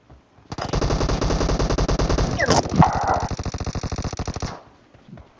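UZI and Vector submachine guns fire in long rapid sprays in the PUBG video game, loud close bursts of clattering shots lasting about four seconds, with a brief burst of shouting in the middle.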